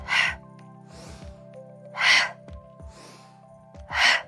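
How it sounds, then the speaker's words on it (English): During a slow-flow yoga session, loud open-mouthed 'haw' exhalations come about every two seconds, separated by softer nasal sniffing inhales, all over a steady low musical drone. "we're sniffing the breath in, sweeping the arms up, and then hawing the breath out, let the arms drop"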